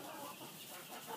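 Soft, close clucking of backyard homestead chickens pecking and eating eggshells, a brief low murmur of fowl sounds with no talking.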